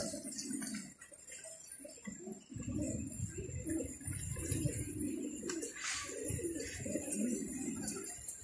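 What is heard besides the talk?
pigeons cooing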